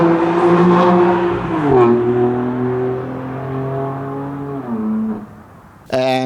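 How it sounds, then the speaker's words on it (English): A 2014 BMW M4 Coupe (F82) with four exhaust tips accelerates away, its engine note climbing through gears and then fading with distance, followed by a sudden loud burst at the end. "this is the way most people will probably see the M4 vanishing from the back"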